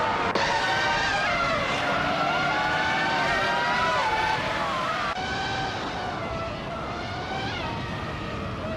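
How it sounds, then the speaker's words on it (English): Many engines of AI-driven cars in a racing video game, high-revving whines that rise and fall in overlapping pitch sweeps, a continuous loud drone of several cars at once with no speech. "Hope you're ready to enjoy some exciting AI car races with us."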